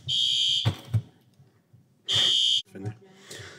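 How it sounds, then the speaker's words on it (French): A building fire alarm system under test in a municipal meeting room sounds two loud, steady high-pitched tone blasts of about half a second each, separated by quieter room noise and faint voices. "Une fois de plus, il y a des tests qui sont effectués sur les systèmes d'alarme."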